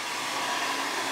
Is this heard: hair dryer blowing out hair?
yes